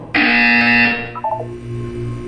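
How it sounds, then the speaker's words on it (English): A loud electronic buzzer from the video game Portal 2 sounds once for about a second, a harsh sustained tone that cuts off, followed by a brief beeping flutter and a low hum. "When you hear the buzzer, look down at the floor"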